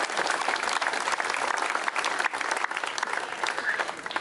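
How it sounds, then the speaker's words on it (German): Sustained crowd applause fills a summer party held by a political party's district branch, dense and steady throughout without a break. "da kann man mal klatschen."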